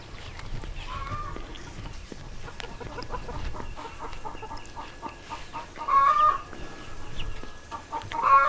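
Chickens cluck and call around a backyard chicken coop, with repeated short clucks and louder bursts near the end over outdoor background noise.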